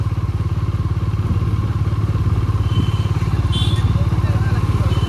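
A motorcycle being ridden and parked: a steady, loud engine thrum with a low pulsing idle throughout, and someone talks over it.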